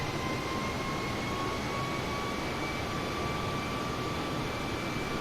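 Jet engines of an Airbus A320neo in Microsoft Flight Simulator drone steadily in cruise, a constant broadband roar with faint steady whines above it, moderately quiet and unbroken.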